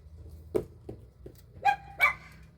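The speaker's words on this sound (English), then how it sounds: "I knew she would start barking because someone's just pulled up outside." A dog gives a few short, sharp barks and yips, spaced unevenly, ending with two louder high-pitched barks over a quiet background hum.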